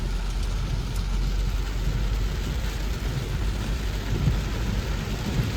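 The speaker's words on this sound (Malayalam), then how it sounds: "കാഴ്ച ഫുൾ മഴയാണ് ഇവിടേക്ക്" Heavy rain pours in a steady, dense roar with a deep rumbling undertone, continuous and loud throughout with no voices.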